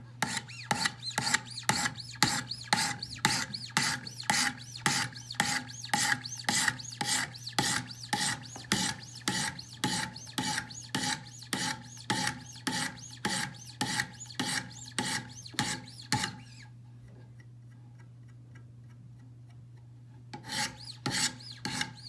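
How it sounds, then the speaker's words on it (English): Knife blade scrubbed back and forth on a 200 grit stone in a Wicked Edge guided sharpener, sharpening a Hinderer, a fast, rhythmic rasping of close strokes that stops for a few seconds and then resumes, over a faint steady hum. "use the 200 grit stone, and I'm just going to scrub on this until all that marker goes away"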